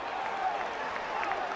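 A packed football stadium at a Michigan–Oregon college game reacts to a touchdown call on the goal line. A steady, distant roar of crowd noise with scattered cheering and applause holds for the whole moment.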